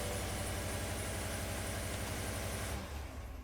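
A Cadillac Escalade engine idles steadily just after starting, a loud, even low rumble that drops away near the end.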